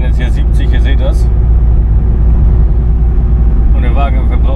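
Opel Zafira A 2.0 DTI diesel cruising on a country road at about 70, a loud steady low engine and road drone heard from inside the cabin, with someone talking over it at the start and end.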